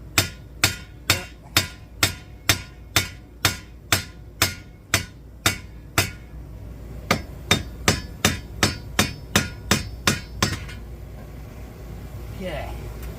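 Sharp hammer taps on the front hub of a 2012 Jeep Liberty during a hub replacement, a steady run of about twenty evenly spaced, loud metallic strikes with a brief pause midway, then quieter workshop noise and faint talk.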